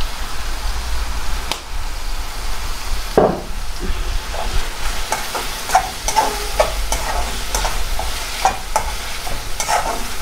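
A tadka with soy sauce sizzles loudly and steadily in a pan, and a spoon or spatula stirs and taps through it with repeated sharp scrapes and clicks, no talking.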